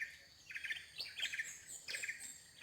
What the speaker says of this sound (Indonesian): Ada burung rangko begitu banyak,